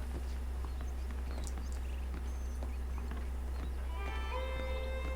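Horses walking in the Red Dead Redemption video game, a steady clip-clop of hooves over a constant low hum and faint outdoor ambience, with a brief melodic tone near the end.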